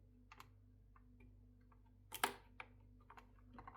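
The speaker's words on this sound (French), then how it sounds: "On a un clavier qui ne fait pas de bruit." Keys on an 8BitDo mechanical keyboard tapped in a few scattered clicks with one firmer cluster of presses, faint and close against a quiet room hum.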